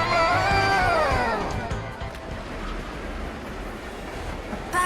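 Moving train in the video game World's End Club, a steady rumbling roll of rail cars under a fading whistle-like tone at the start, continuing evenly to the end without speech.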